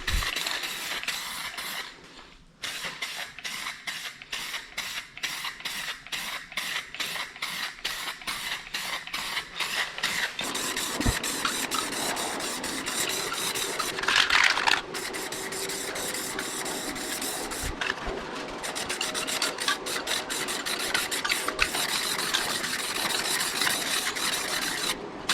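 Rattle-can spray paint goes onto a rusty truck bed in a light first coat, heard as rapid, rhythmic bursts of hissing spray followed by longer, steadier passes, close up.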